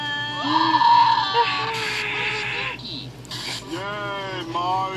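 A goat bleats in short, wavering, nasal calls in a playful, game-themed setting. The calls sit among voices and background tones.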